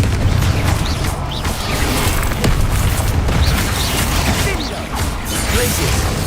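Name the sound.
Confringo fire blast spell in the video game Hogwarts Legacy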